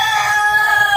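A rooster crows loudly and close, one sustained call that stops abruptly at the end.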